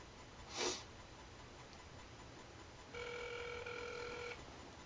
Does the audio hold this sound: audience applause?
no